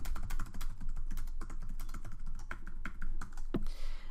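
Rapid clicking of keys on a computer keyboard, quick irregular taps close by with a few heavier strokes, ending in one louder keypress, with no voices.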